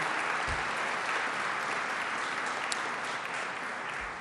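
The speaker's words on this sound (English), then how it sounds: "Let's give them a round of applause for what they've done." Crowd at the grand opening of a resort and casino in upstate New York applauds the people being thanked, an even, continuous roar of clapping from a large gathering with no speech over it.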